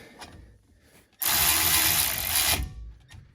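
A Milwaukee power tool drives the T45 brake caliper bolts on a 2016 Ford Fusion, one loud close whirring burst of about a second and a half between quieter handling noises.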